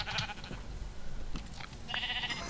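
Sheep bleating in the Minecraft video game, a few short nasal bleats rising over a busy background of game sounds, fairly close and moderately loud, with no talking.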